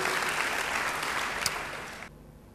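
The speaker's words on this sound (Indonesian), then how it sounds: "Beri tepuk tangan yang baik buat Dia" Church congregation applauding during a sermon, a dense burst of clapping that runs steadily and then cuts off abruptly near the end.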